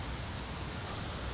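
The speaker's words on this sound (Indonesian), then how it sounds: "di luar hujan teman-teman" Rain falling outside a house in Surabaya, a dense, steady hiss of downpour with no breaks and no voices.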